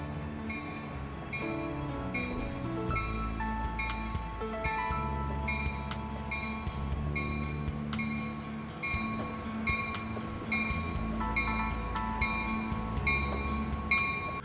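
A Minerva Scenic Railway train rolls along with a deep rumble and clanking, rhythmic clicks, tonal ringing over the top, heard close and steady without speech.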